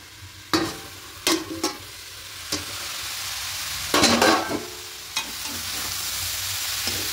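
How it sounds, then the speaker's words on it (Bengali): Cabbage curry being stirred in a pan, with a continuous close frying sizzle broken by several loud scraping strokes of a spoon against the pan, no voices. "এবার খুব ভালো করে দেখুন মিশিয়ে নেব সবটা।"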